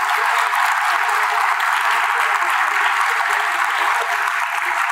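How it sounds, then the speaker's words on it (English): A lecture audience at an Islamic talk gives a sustained round of applause, a steady, dense hiss of many hands clapping that stays loud and even for the whole stretch, with no talking over it. "give a serious round of applause and a shout out to all the young people that put this thing together"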